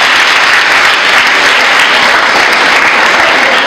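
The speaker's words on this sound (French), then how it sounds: "Des applaudissements pour elle également." Loud, dense audience applause at a ceremony for an educational digital-technology challenge, a thick continuous wash of many hands clapping together.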